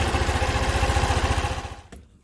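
Small scooter engine idling close by with a steady, rapid putter, fading out and cutting off near the end.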